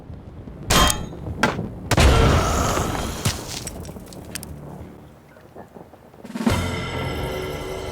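A grenade detonates in the video game Mutant Year Zero, with several sharp booming blasts and bursts early on, a quieter rumbling stretch, then a renewed heavy roar near the end.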